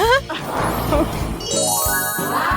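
Bright bells jingle and chime over a busy background, with a rising tinkling run near the end, loud and close.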